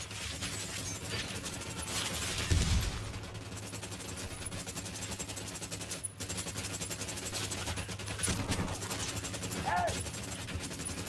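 Gunfire in Ghost Recon Wildlands: a dense mix of gunshots with a sharper burst near the start, running under steady game noise and background sound.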